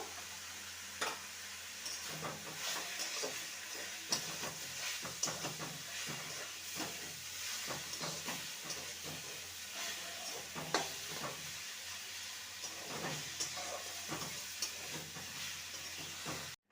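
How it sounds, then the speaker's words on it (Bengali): Fried eggplant is stirred into beto greens in a pan, giving a soft, low sizzle under repeated scraping and clinking of a spatula at an uneven rhythm, quiet and close with no talking. "এবারে আমি যে বেগুনটাকে ভেজে রেখেছিলাম সেটা এই শাকের মধ্যে দিয়ে দেবো ভালো করে মিশিয়ে নেবো"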